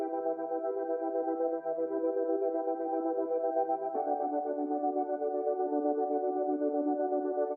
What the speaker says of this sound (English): So this pad sound is just like a serum preset with some basic EQing.